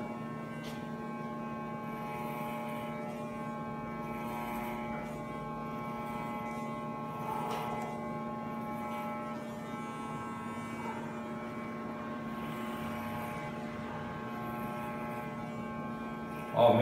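An electric hair clipper runs steadily during a surfer-style haircut, working the nape with the comb guard, a constant close buzzing hum with faint scraping through the hair and a voice talking over it.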